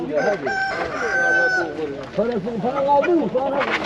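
Roosters crow loudly and repeatedly, overlapping one another at a busy poultry market in Taşköprü, with people talking nearby.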